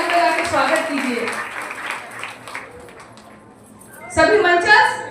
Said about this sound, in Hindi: उनका भी जोरदार ताली बजा के स्वागत कीजिए।